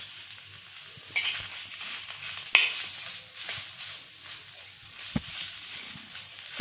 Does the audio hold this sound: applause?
no